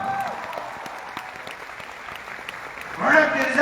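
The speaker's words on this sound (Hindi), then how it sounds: "जोरदार तालियां होनी चाहिए।" Audience clapping at a wellness company's direct-selling business event in a hall in Patna, a faint patter that swells into louder applause near the end, with a voice over it.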